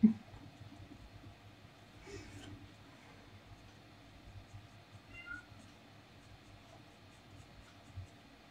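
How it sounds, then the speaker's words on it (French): Indoors, a house cat gives a couple of faint, brief meows at some distance against steady low background noise. "J'ai un chat qui miaule."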